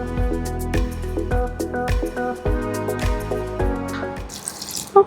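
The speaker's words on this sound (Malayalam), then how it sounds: "ഇതൊന്ന് മുങ്ങാനുള്ള വെള്ളം." Room-temperature water poured into a bowl to soak pudding ingredients, a steady close splashing stream with rippling, bubbling tones that ends in a brief clatter.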